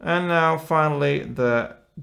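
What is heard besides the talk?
No everyday noise stands out behind the speech.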